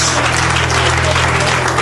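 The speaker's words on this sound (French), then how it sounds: "Qu'on applaudit." An audience at an evening tribute event applauds, a dense wash of clapping held at a steady level over a constant low hum, with no distinct voices.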